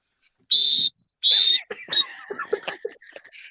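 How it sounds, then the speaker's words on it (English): Two loud, shrill blasts of a whistle, each under a second, followed by a chaotic mix of clatter and voices. "Blow the whistle. Blow your whistle. Sound it."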